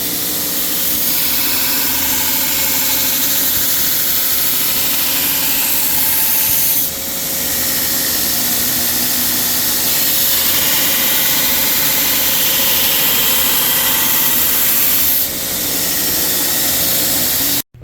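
A belt grinder cutting a plunge grind on a hand-forged bushcraft knife blade, a loud continuous abrasive rasp with a steady motor whine, briefly dipping twice as the blade is lifted and reapplied.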